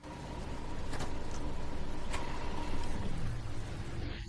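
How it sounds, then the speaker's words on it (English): Rain starting in the Fernbus Coach Simulator game, a steady even hiss of falling rain with a faint low hum beneath and a couple of soft clicks. "now it's starting to rain naturally"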